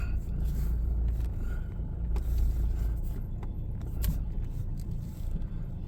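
A car's low engine rumble and road noise hum steadily from inside the vehicle on the way to an oil change, with a few faint clicks and knocks over the drone.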